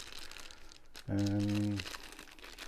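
A resealable plastic goodie bag from a diamond painting kit crinkles for about a second as it is opened, close and fairly loud, set against a quiet room.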